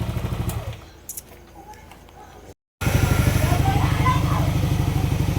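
A Yamaha Aerox scooter engine with a failing charging/starter relay idles with a steady, rapid putter, briefly dropping and cutting out, then returning louder and running evenly to the end.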